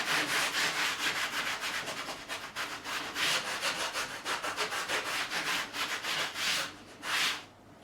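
Repeated back-and-forth strokes of a sanding block rub across tiles, a close, dry rasping rhythm of about two strokes per second that pauses briefly before fading out.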